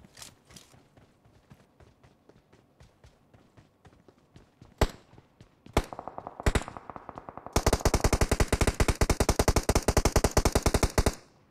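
Gunfire from a shooter video game: scattered single shots echo at first, then loud, rapid machine-gun bursts take over and keep going, dense and close.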